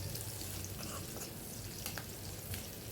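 Onion and green chilli fry in oil left over from frying eggs, a dense, even hiss of sizzling with faint crackles, fairly soft and continuous, nobody speaking.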